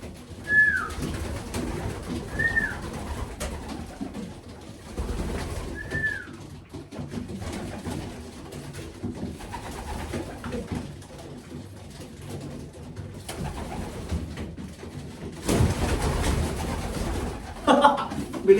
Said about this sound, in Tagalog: Kaya to mga kalapati na to, ang tataba.